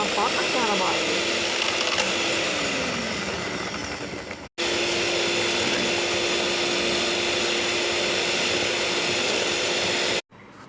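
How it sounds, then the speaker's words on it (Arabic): An electric mixer whirs steadily, blending a vanilla ice cream mixture in a bowl, with a brief cutoff partway before it resumes at the same even drone. "بالخلاط الكهربائي"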